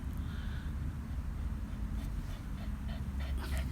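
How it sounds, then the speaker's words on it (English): A dog pants close by outdoors in a shaded schoolyard on a sunny day, quick rhythmic breaths with a faint whimper, fairly quiet against the open-air background. "There's my dog."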